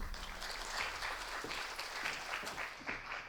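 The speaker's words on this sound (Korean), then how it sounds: "큰 박수로 맞이해 주시기 바랍니다." An audience at a seminar session on machine-learning automation applauds to welcome a presenter, a steady wash of clapping that runs the full length, fairly even and somewhat distant, with no talk.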